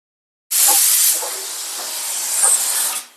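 A pressure cooker whistle releases steam while rajma cooks, a loud, close, steady high hiss that starts abruptly, holds for about two and a half seconds and then fades out, with no talking.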